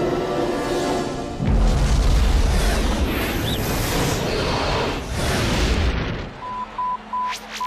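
A loud booming explosion from the animated series Galactik Football erupts and rolls on for several seconds, then cuts off, followed by a few short electronic beeps.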